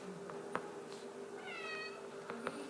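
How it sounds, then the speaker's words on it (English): Pet cat meowing indoors, one short wavering meow over a steady low hum, with a few soft clicks and knocks around it, faint and near. "It's my cat, sorry."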